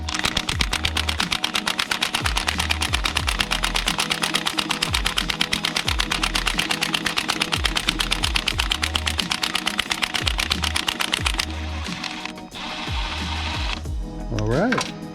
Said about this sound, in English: I tried getting one of the bolts out with the impact, got it turned down low